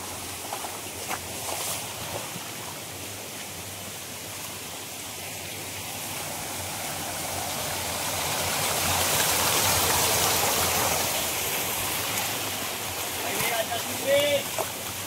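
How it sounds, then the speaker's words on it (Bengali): Steady broadband rush of water from a waterfall at Burudi Dam in Ghatshila, Jharkhand, swelling slightly in the middle and continuing throughout, with a few faint bird-like chirps near the end and no talk. "এই হচ্ছে ঝর্ণার এক্সপিরিয়েন্স।"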